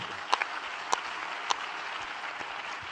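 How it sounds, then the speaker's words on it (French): A conference audience applauds steadily as a speaker, a sports tech founder, is introduced; a dense, even wash of clapping with a few sharper nearby claps, moderately quiet and continuous, no talking. "On applaudit Cédric."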